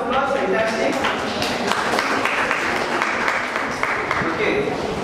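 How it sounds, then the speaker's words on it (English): Crowd applause at a middle school quiz, a continuous wash of clapping from many hands filling the room, steady and fairly loud throughout with voices mixed in. "deserves a big round of applause"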